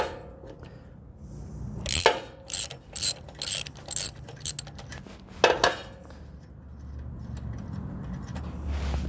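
A hand ratchet tightens a tool in a repaired exhaust port thread on a lawn mower engine. Bursts of metallic clicking come in a rhythmic run of short strokes, close and clear, with a few louder clanks.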